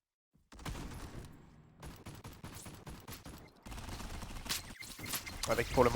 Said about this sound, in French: Avec pour le moment bien sûr Kizo, Blackster pour déjà venir faire parler la poudre avec cette Westfire et ce sniper.